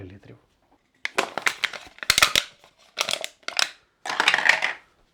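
Aluminium beer cans being crushed, several loud crumpling, crackling bursts of metal in separate rapid clusters separated by brief silences.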